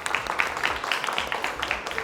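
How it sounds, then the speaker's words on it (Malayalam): An audience at a college comedy show claps for the performers in a steady, moderately loud patter of many hands. "അതിനൊരു നല്ല കൈയടി ഞാൻ നിങ്ങൾക്ക് തരികയാണ്."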